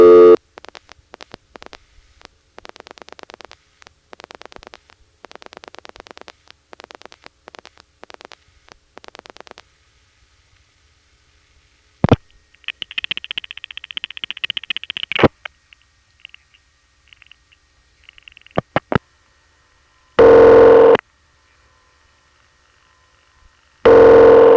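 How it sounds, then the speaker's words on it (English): Telephone call signalling passing through the Gotham Tandem to the East 97th Street office in Manhattan: rapid rhythmic pulsing clicks, then a steady tone burst, scattered clicks and two loud tone bursts near the end, with no voices. "Here's a call to the office code 960, which is out of East 97th Street, Tandem 4."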